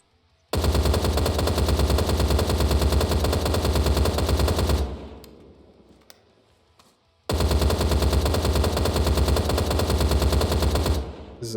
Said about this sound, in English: Here's the RPK, the second LMG.